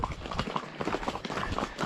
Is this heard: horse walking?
yes